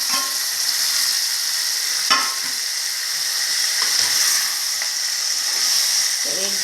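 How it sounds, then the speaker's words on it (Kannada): Four or five red tomatoes fry in a pan for tomato gojju, giving a steady close sizzle and hiss broken by a few scraping stirs. "ಈಗ ಟೊಮೊಟೊ ಆ್ಯಡ್ ಮಾಡ್ತಿದ್ದಾರೆ"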